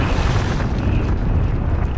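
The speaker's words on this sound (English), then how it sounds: "Dragon bomb." Dragon bomb blast in an online shooter game, a loud rumbling explosion sustained for about two seconds, heavy low-end roar without talk.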